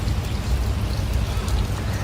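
Heavy monsoon rain pouring in Sringeri beside floodwater around a temple, a dense continuous wash of falling water with a low steady roar, loud and unbroken, no talking.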